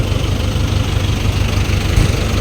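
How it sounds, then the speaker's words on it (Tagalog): A heavy machine's engine runs steadily close by, a deep low rumble with a constant vibrating throb and no pauses. "Gamit itong mga heavy equipment dito."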